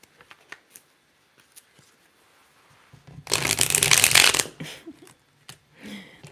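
Tarot cards are shuffled in a dense riffling burst lasting about a second and a half, close and crisp, with scattered light taps and handling sounds before and after in a quiet room.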